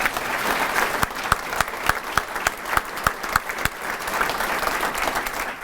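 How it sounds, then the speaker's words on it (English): A breakfast-series audience gives a round of applause for a speaker, a steady crowd wash of clapping with a few sharp, prominent claps standing out nearby in a regular beat. "So let's give Craig another round of applause."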